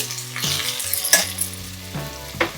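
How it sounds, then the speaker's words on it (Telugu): Onions fry in a pan toward a golden colour for a coconut rice and chicken curry meal, a close sizzle broken by several quick stirring scrapes, with faint tonal background sound underneath. "ఈ ఆనియన్స్ను బాగా వేయించుకోవాలి రెడ్ కలర్ లేకొచ్చేంత వరకు గోల్డెన్ కలర్ లేకొచ్చేంత వరకు వేయించుకున్నాము"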